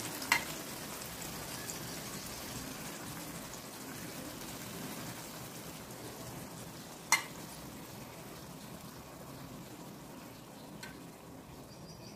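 Banana flower paste with coconut, ginger, chilli and tomato frying in oil: a steady, soft crackling sizzle throughout, with an occasional sharper pop or clink of a utensil against the pan.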